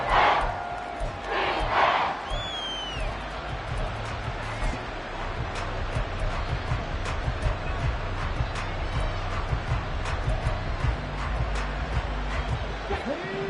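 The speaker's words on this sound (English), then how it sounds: "Well, this crowd is making an impact right now." Stadium crowd noise in the football game Madden 24, a steady dense roar of the crowd sustained throughout, with occasional sharper rises and a commentator-like voice faintly present.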